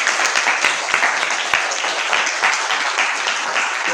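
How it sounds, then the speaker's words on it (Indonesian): A classroom of students claps together, loud, close and dense applause that carries on evenly for several seconds in a school room. "Tepuk tangan dulu bagi kalian semua"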